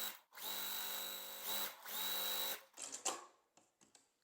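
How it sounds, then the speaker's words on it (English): A sewing machine stitches a quilt block in two steady whirring runs, each about a second long, separated by brief pauses, followed by a few soft handling clicks and rustles. "I'm just gonna come around and sew the other side"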